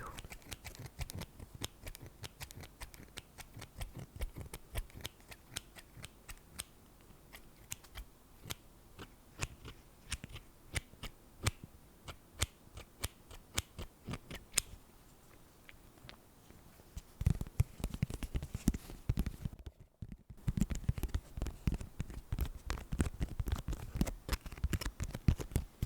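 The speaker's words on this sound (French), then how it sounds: "Ce sont des petits ciseaux de 10 cm de la marque Craft" Small 10 cm Craft & Design scissors are handled close up in a quiet ASMR setting, giving a long run of crisp clicks and taps at an irregular pace that grows louder and busier toward the end.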